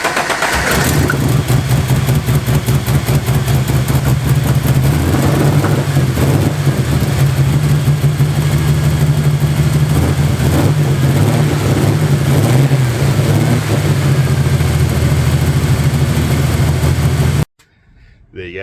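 Ford Falcon engine cranks, catches and runs steadily after a radiator change, a loud continuous rumble with revving that holds for about seventeen seconds before cutting off abruptly.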